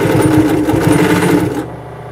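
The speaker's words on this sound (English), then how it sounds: "When you sew that many layers of material, it really heats the needle up." A Singer 111W151 needle feed industrial sewing machine stitching through many layers of material, a loud close rapid mechanical chatter that runs steadily then stops, leaving a faint motor hum.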